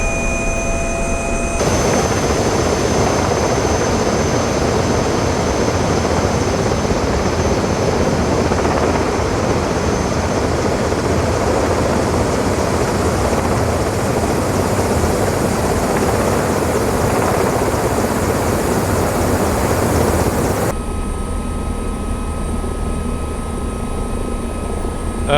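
Bell 407 helicopter heard from outside in Microsoft Flight Simulator flying over Bora Bora, a loud sustained turbine whine and rotor drone that starts abruptly, holds steady for about twenty seconds, then cuts to a quieter engine tone.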